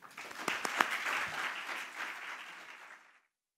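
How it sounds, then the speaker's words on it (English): Audience applause welcoming Secretary Benjamin Diokno at a Philippine economic briefing, a few sharp individual claps opening into a moderate, even round of clapping that fades out just before the end. "Please join me in extending a round of applause to welcome Secretary Benjamin Diokno"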